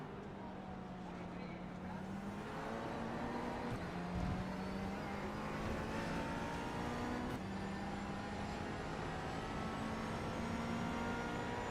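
Racing engine of a McLaren sportscar heard from onboard during a miniMite Sportscar Challenge race at Magny-Cours, a steady loud drone with gear-change pitch steps and rising and falling tones throughout.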